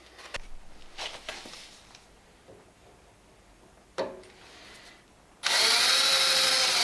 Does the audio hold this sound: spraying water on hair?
no